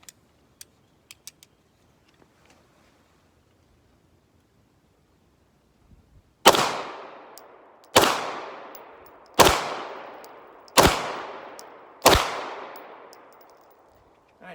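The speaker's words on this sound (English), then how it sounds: "Try the Beretta now. Beretta Model 92." Five sharp, loud gunshots from a Beretta Model 92 9mm pistol at a shooting range, spaced about a second and a half apart, each with a decaying echo, after a few quiet clicks and handling noises.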